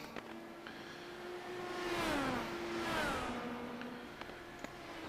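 IndyCar race car engines in a racing video game at Belle Isle, high-pitched engine whines rising and falling as two cars sweep past in quick succession, swelling loud then fading, with faint engine drone between.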